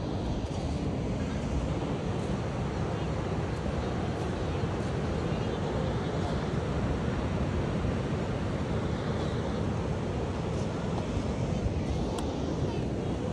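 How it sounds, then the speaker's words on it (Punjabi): Roaring floodwater pours over a dam swollen by monsoon rains, a dense, continuous, loud rush with wind buffeting the microphone throughout. "ਗੂੰਜ ਪਾਣੀ ਦੀ ਦੇਖੋ।"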